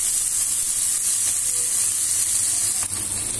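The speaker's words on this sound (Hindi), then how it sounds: "देखिए प्याज अब थोड़ा सा भूनने लगा है" Onions fry in oil in a pan with a dense, continuous hissing sizzle, loud and close, plus a couple of faint ticks from the spoon.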